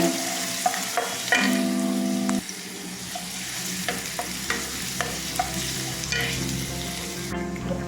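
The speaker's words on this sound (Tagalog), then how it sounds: "sasamahan natin ng paminta para mabango ang ating gisa" Garlic and black pepper sauté in a pan for a jackfruit and coconut milk dish, a close sizzle broken by repeated stirring scrapes and clinks of a utensil against the pan.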